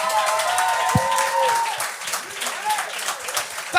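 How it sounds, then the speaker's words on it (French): A comedy-show audience claps and cheers for comedian Julien Dionne, a burst of applause that is briefly cut by a sharp knock, then fades under a host's loud voice calling out. "donnez énormément de bruit et d'applaudissements pour le prochain Julien Dionne!"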